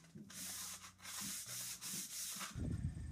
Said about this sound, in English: Oh, that's how you sand a shaft.